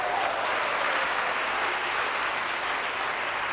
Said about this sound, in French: Je veux qu'on acclame le Seigneur pour sa gloire.